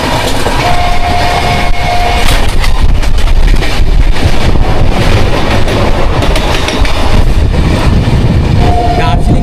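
Darjeeling Mail train pulling out of platform 12 on its way toward Darjeeling, a loud, steady rumble of rolling carriages with wind buffeting throughout and a brief whistle-like tone near the start and end.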